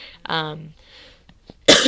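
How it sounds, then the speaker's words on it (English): Sudden coughs and a throat-clearing rasp from a person nearby, a short harsh burst at the start and another sharp one at the end, with a little speech-like voicing between. "Sorry, still coughing."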